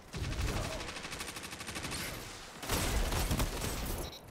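Rapid rifle fire in a Destiny-style shooter with the Defiance of Yasmin sniper rifle, a fast steady string of close, loud shots, a brief lull, then another heavy burst of fire.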